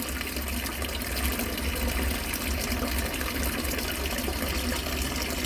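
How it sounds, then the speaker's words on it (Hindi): Water runs steadily from a tap in a village home, a continuous broadband gush that stays at an even level throughout with no voices. "और टैप को बंद कर दीजिए, पानी वेस्ट ना करें"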